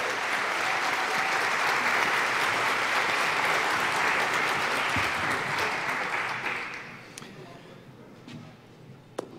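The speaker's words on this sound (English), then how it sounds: "Big round of applause." Conference audience at an information security event breaks into loud, sustained applause as a speaker takes the stage, the dense clapping holding steady before thinning out and fading to scattered claps near the end.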